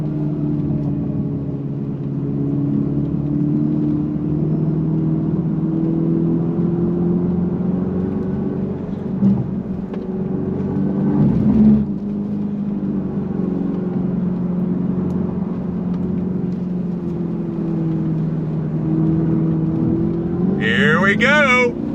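A 2025 Dodge Charger Daytona Scat Pack accelerates hard with stability and traction control off, its drive note holding a steady loud hum from inside the car for over twenty seconds, rising slightly near the end.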